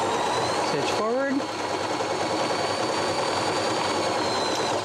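A Baby Lock Zest sewing machine stitches forward with a steady, fast mechanical whir and a thin high whine, running close and unbroken, with a brief vocal sound near the start.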